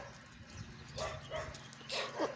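A puppy gives soft whimpers and small yips, faint and close, in a few short bursts against quiet room noise.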